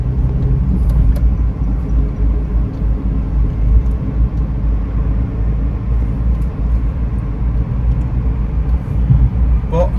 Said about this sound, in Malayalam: ഇപ്പോൾ 4th ഗിയറിൽ 50 കിലോമീറ്റേഴ്സ്, 5th കടന്നു.